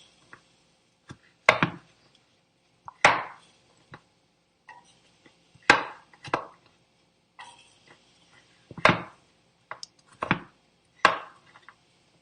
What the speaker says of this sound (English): I'm just going to chop them to make them a little bit more manageable.